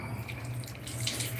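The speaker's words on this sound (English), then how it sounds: "Meanwhile, let me wash my hands." Water running steadily from a sink tap while hands are washed, a constant close hiss and splash with no voices.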